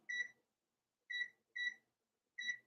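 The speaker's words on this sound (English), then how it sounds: "now we're going to go ahead and put the timer on" A kitchen timer being set, giving four short high electronic beeps, one alone and then three more in a loose rhythm, close and fairly quiet in a silent room.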